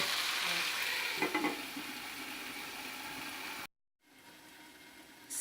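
Curry puff filling sizzles steadily in a pan over medium heat, a continuous frying hiss with brief stirring clatters, cutting abruptly to near silence before the sizzle resumes more quietly.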